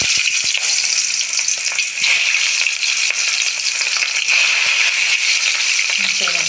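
Onions for a mutton curry fry in a pan with a loud, steady, close-up sizzle and occasional stirring clatter.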